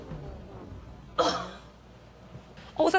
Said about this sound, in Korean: 왜 이렇게 기침을 하시는 거예요?